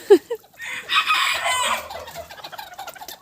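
Chickens cluck nearby in a farmyard flock that includes a Cochin rooster, as a rooster lets out a loud, drawn-out crow, followed by scattered softer clucking and bird noises.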